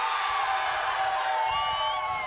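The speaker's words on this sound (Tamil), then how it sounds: "உங்களுடைய ஆரவாரம் மகிழ்ச்சி" A dense, steady roar of crowd cheering fills an Edappadi Palaniswami election campaign rally in Ulundurpet, loud and continuous with whoops and shouts blended into a wall of noise throughout.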